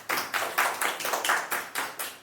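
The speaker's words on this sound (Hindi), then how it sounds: "अब तो ताली बनती है, ताली बजा दो।" Students in a classroom lecture clap in a steady, even rhythm, about eight sharp, close claps in just over two seconds, with no talking.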